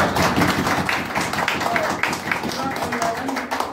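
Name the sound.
audience applause welcoming a speaker to the stage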